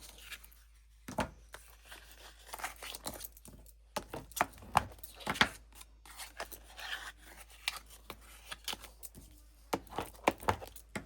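Scissors trim paper overhang on a mini album in quick, irregular cuts, close and fairly quiet, with small rustles between the snips.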